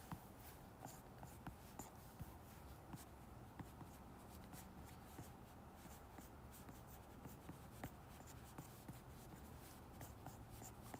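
Steady pencil scratching across sketchbook paper while drawing curly hair, close and quiet, with soft continuous strokes and occasional light taps, no talking.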